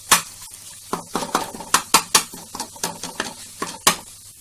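An egg is broken up in a frying pan: a utensil scrapes and taps against the pan in an irregular run of sharp knocks over a soft sizzle, close and fairly loud.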